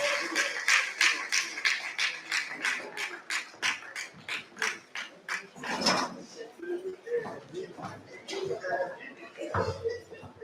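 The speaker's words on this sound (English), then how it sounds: "Can we clap for them as they have their seats?" A meeting audience claps in a quick, rhythmic run of distinct hand claps for about six seconds, then the clapping thins out as a voice starts speaking and other movement follows.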